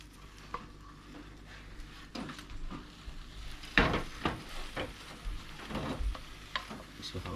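A broccoli and egg omelet fries in a pan with a soft sizzle, joined by scattered scraping and tapping of a utensil against the pan, fairly quiet and close.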